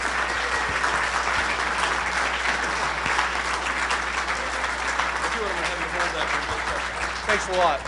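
An audience at a conference in Dallas applauds steadily for the full stretch, dense clapping while voices talk over it near the end.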